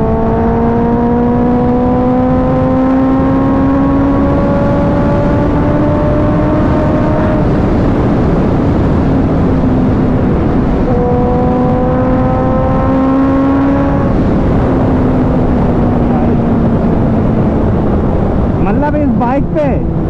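A Kawasaki ZX10R Special Edition sport bike accelerates hard at high speed, its engine note climbing steadily through the gears with pitch drops at each shift, under heavy wind rush.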